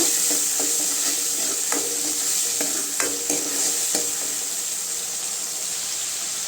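Tomatoes are sautéed in a pan for drumstick-leaf (murungai keerai) sambar, giving a continuous bright sizzle with occasional spoon scrapes and clicks, close and steady, no talking.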